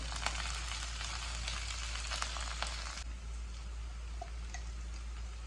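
Onions, green chillies, curry leaves and kasuri methi fry for a curry, sizzling loudly and continuously in hot oil, with an abrupt softening of the hiss partway through and a few faint ingredient clinks.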